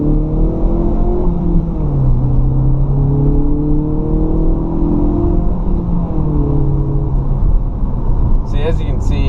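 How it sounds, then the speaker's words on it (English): A 2016 Hyundai Veloster Turbo on its stock exhaust, heard from inside the cabin, hums with a steady low drone that rises and falls in pitch as the engine revs. A voice speaks over the engine noise. "we're going to let you check out the exhaust from the inside, what the cabin noise sounds like"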